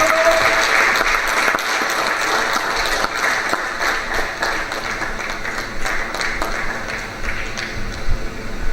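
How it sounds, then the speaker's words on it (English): An audience at a university research day breaks into sustained applause, a dense wash of many hands clapping that stays fairly even throughout and swells slightly near the end. "Please applaud him, encourage him,"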